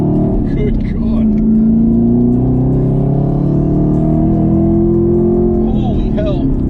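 A 2020 Chevrolet Camaro ZL1 accelerates hard in first gear, its loud engine drone climbing steadily in pitch as heard from inside the car.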